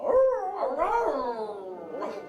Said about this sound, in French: Moi, je ne supporte plus de l'entendre aboyer comme ça.